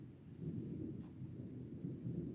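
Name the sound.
thunder rumbling during a thunderstorm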